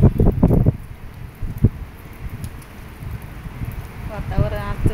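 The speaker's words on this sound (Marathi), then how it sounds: "पाऊस मस्त येतोय." Wind blows hard with rain falling, a gusty rushing roar buffeting the microphone with intermittent bursts and scattered patter, while a person talks nearby.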